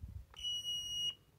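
A LaserLiner contactless voltage detector gives a single steady electronic beep lasting just under a second, close and clear in a quiet room.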